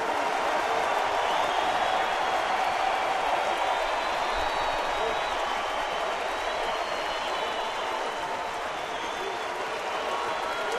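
At Safeco Field, a baseball crowd of about 20,000 stands and cheers in a sustained, even roar of applause and voices that fills the whole stretch at steady strength.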